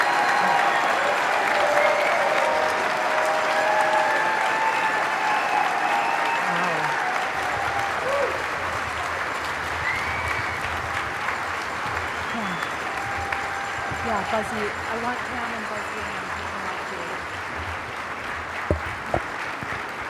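Audience at an Alaska Native convention applauding after a congresswoman's keynote speech, a loud sustained wave of clapping that gradually thins and fades, with a brief spoken exclamation and a few scattered claps near the end.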